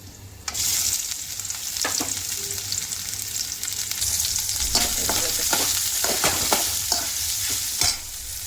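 Squeezed soybean chunks sizzle steadily in hot oil in a kadhai, with occasional scraping and stirring knocks in the pan; no voices.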